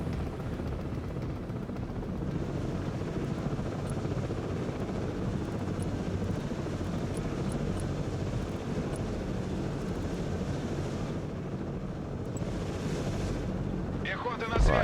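An Mi-8 transport helicopter flies in the war strategy game Broken Arrow, its rotor and engine giving a continuous dense rumble with windy wash that holds steady throughout.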